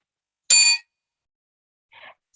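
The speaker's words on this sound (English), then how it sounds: "the timekeeper will ring the bell once" A single bright bell ring, sharp and loud, followed by a softer, shorter ring a moment later, with silence around them, rung by a timekeeper at a debate.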